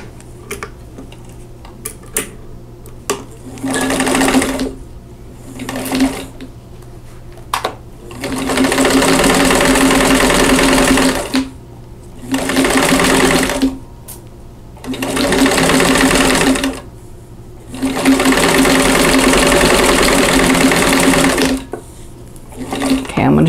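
A sewing machine stitches a quarter-inch seam on a quilt block in five or six loud, steady bursts of a few seconds each, with short pauses and faint handling noises between runs.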